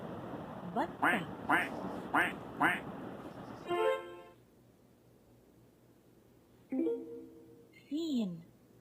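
A voice imitates a duck in a farm-animal alphabet song, giving a series of rhythmic quacks over music. A short quack-like honk and a further spoken word follow after a pause.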